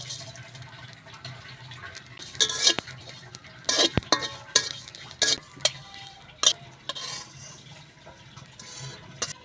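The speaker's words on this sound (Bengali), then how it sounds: "কড়াই গরম হয়ে গেছে আমি কটা সাদা জিরা বাইরে নিতেছি" White cumin seeds fry in hot oil in a wok for a prawn pulao, with a low steady sizzle under repeated sharp scraping and clinking stirring strokes, close and fairly loud in bursts.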